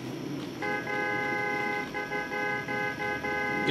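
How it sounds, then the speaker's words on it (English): A car horn honks at police in the racing game Need For Speed Most Wanted, driving a Jaguar XKR, one sustained blast lasting about three seconds with brief dips, over low engine noise, no talk. "Yes, I'm honking at the police because I feel like it."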